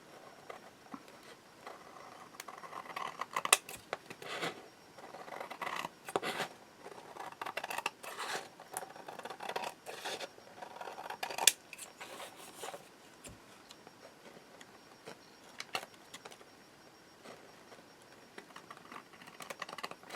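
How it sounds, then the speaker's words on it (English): Scissors snip away excess fabric while binding a mini album, a series of close, crisp cuts and rustling fabric sounds repeating irregularly across the quiet stretch, without talk. "now I'm going to take and cut off the excess."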